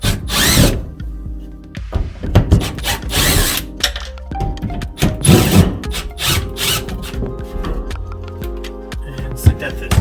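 A power drill backs out six screws holding the heater guard of an infrared sauna, with loud whirring bursts that rise and stop repeatedly, mixed with clattering handling noises, up close.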